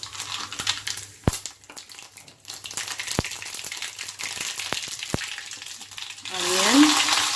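Cumin and mustard seeds fry in a pan over a low flame while making poha, giving a steady soft sizzle with a few sharp pops and clinks, and the sizzling grows louder near the end.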